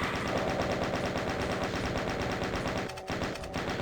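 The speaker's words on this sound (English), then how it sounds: "We'll take care of these enemies ourselves using our trusty chain gun" A chain gun in the DOOM video game fires in a dense, continuous rapid stream of loud mechanical shots that barely pauses, with a brief dip near the end.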